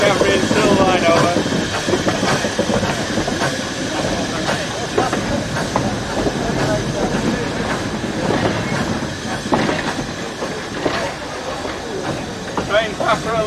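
A train on the Welshpool and Llanfair Light Railway runs loudly and close by, with a continuous rumble, rhythmic clatter of wheels on the rails and a hiss of steam, while voices speak over the noise.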